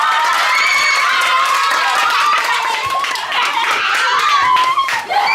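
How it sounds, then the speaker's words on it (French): An audience applauds a team at a scoring announcement, with steady, dense clapping from a crowd throughout, loud and continuous. "nous allons quand même les applaudir très très fort"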